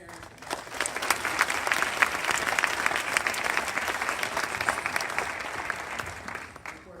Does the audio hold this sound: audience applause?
yes